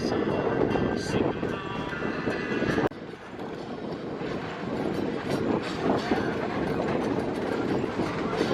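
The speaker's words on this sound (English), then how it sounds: "On our way back, big curve, you can see the whole big train." A long excursion train rolls past on a big curve in Verde Valley, Arizona, a broad continuous rumble and clatter that stays steady and fairly loud throughout, with a brief dip partway through.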